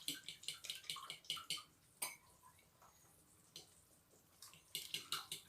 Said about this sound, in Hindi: अब इसमें थोड़ा थोड़ा पानी डाल के इसे मिक्स करूँगी कांटे के साथ।